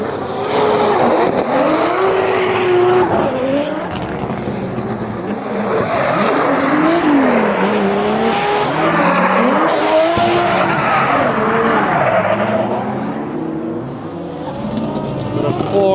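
D1 pro drift cars scream past at Mobara Circuit, engines revving hard under sustained, loud tire squeal and skidding as several cars slide through in tandem, a continuous roaring wash of sound.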